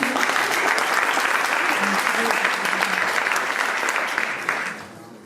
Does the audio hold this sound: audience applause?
yes